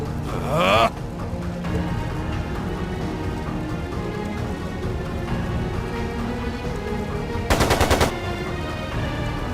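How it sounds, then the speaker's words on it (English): Machine gun fire in the video game Trails of Cold Steel II, two short rapid bursts at the start and near the end over a dense, continuous background rumble. "It sounded like a machine gun."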